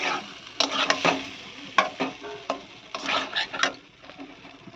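Vegetables with turmeric and green chili fry in a pan, a close sizzle under repeated scraping and clattering stirs of a utensil against the pan, with no speech.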